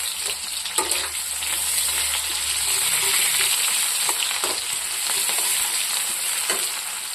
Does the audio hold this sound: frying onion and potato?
yes